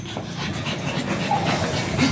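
A dog pants quickly and steadily close by, breathy rhythmic huffs with a faint whimper, continuing through the short moment.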